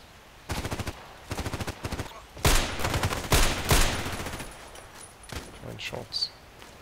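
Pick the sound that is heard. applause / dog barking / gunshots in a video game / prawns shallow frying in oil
gunshots in a video game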